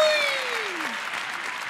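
An audience breaking into loud, sustained applause, a dense wash of clapping that holds steady for the whole short moment, with one voice briefly audible over it at the start.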